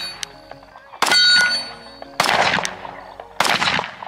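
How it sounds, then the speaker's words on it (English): Glock 43X pistol shots fired on a shooting range, three sharp loud reports about a second apart, each with a ringing metallic tail, close by. "Let's get some shooting in and let's just see if there's any differences that I can tell just from shooting."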